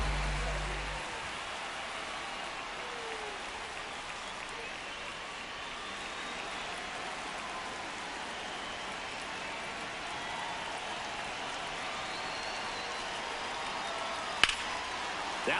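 Rain falls steadily on a baseball field in an MLB video game, a constant broad hiss that holds at an even level throughout, with one brief sharp knock near the end.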